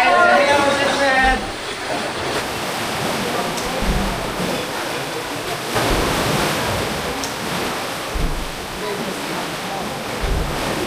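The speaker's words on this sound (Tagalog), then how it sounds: "Sobrang lakas ng alon." Strong ocean waves breaking on Boracay beach, a loud rushing wash that swells and recedes in several surges, with wind buffeting and people talking nearby.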